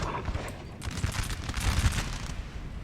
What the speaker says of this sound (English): This gun's firing canister at us, which is just an absolute nightmare.